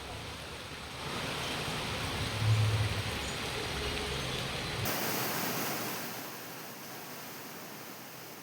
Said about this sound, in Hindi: मंदिर के पास तमसा नदी भारी बारिश के कारण उफान पर है, जिसका पानी मंदिर परिसर में घुस गया।